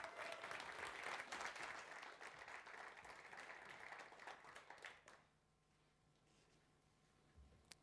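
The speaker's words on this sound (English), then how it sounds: "Please give a round of applause for Jarno." A conference audience at a cloud native event claps in steady applause that runs for about five seconds, then fades out to a quiet room.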